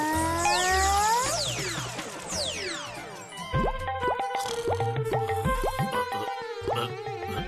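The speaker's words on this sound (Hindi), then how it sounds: "ये पानी कहाँ से गिर रहा है?" Cartoon water drips through a hole in a roof, opening with sliding, springy tones and then a string of clear plopping drips at an uneven pace.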